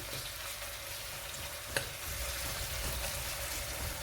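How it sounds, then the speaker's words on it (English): Garlic and thyme fry lightly in a pan with onions, a steady soft sizzle with faint stirring and one brief clink midway, heard alone at low volume. "garlic, thyme, okay, just gonna fry it off lightly"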